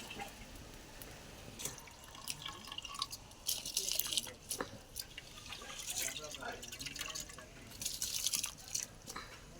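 Water pours and drips into a cooking pot for pulao in a home kitchen, intermittent splashing and trickling bursts at close range under a woman's speech.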